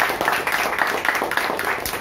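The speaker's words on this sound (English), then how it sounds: "Let's start with a round of applause." Members at a Toastmasters club meeting in a room give a round of applause. It sounds like a small group clapping steadily and fairly close for a couple of seconds, with no talk over it.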